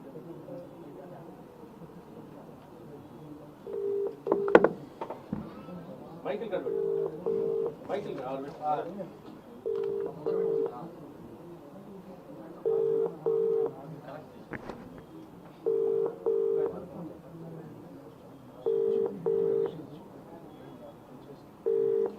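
A telephone ringback tone repeats in paired bursts every few seconds, steady and moderately loud, with faint voices murmuring in the background.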